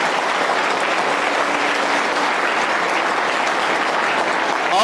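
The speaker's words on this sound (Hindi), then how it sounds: "आप अपने लिए जितनी तेज बजा सकते हैं" A crowd in an audience breaks into loud, dense, sustained applause that stays steady and full for several seconds without pause.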